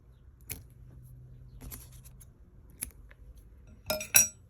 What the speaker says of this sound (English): I'll snip a few more threads.